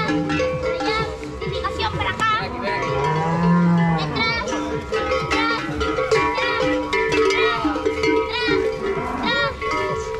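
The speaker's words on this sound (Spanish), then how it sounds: "Más vacas vienen por ahí." Cattle at a livestock fair moo repeatedly, several animals calling near and far in overlapping low and rising bellows, with a cowbell faintly clanking and people talking in the background.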